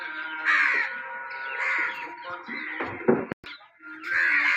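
Several crows caw repeatedly in loud, harsh bursts as a flock gathers to be fed, with a few knocking thumps and a brief gap before the cawing resumes.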